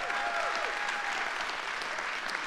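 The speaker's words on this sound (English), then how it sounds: "Would you give the Lord a hand clap for that?" A church congregation claps steadily during a Sunday service, a continuous wash of hand clapping heard somewhat distant and soft, with a few faint voices under it.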